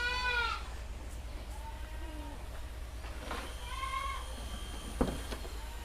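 Goats at an evening feeding on dry feed let out several wavering bleats, one early and a couple later, fairly distant over a low steady hum of farm background.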